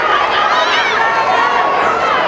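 Agitated crowd gathered at a police crime scene during an arrest, with loud, dense overlapping chatter and shouting voices filling the space continuously, close and busy throughout.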